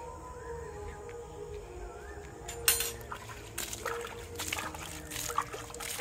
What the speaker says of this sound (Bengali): এই যে জল দিতে চলে এসেছি